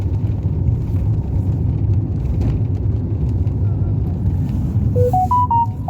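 A car drives along steadily with a constant low engine and road rumble from inside the cabin, and a short chime of rising tones near the end.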